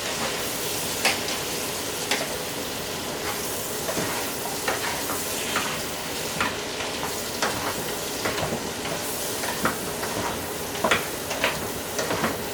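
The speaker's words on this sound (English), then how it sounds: "we just sauteing the vegetables" Vegetables sautéing in a pan for paprika chicken and rice give a continuous close sizzle, broken by frequent light scrapes and clicks as they are stirred, with no voices.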